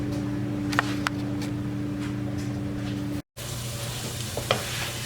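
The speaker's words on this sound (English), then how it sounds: "saute this onion and the garlic for about 2 minutes. And then we're going to add the beans" Green beans sizzling in a pan with sautéed onion and garlic, giving a steady close hiss with a few light ticks of utensils, cut by a brief silent break.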